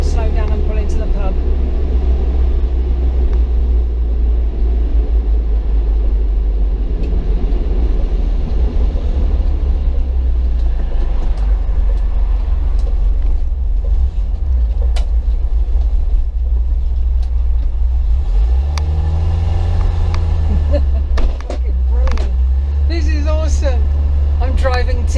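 A Mk3 Ford Cortina Estate drives along with a steady low engine rumble and road noise that continues for the whole stretch. Near the end the engine note shifts as the car slows down, and a voice talks over parts of it.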